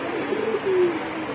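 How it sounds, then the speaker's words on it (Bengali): A pair of Sirazi fancy pigeons gives a soft, close coo, a single short throaty call that rises and settles within about a second. "এই যে নিচে আরেক জোড়া সিরাজি কবুতর দেখতে পাচ্ছেন আপনারা।"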